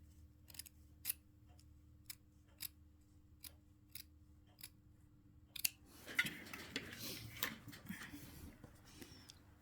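Scissors cut fabric strips for a striped martial arts belt, a series of crisp, evenly spaced snips followed by a rougher stretch of rubbing and rustling, close and quiet.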